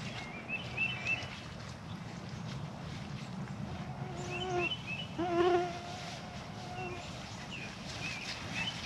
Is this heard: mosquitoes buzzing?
yes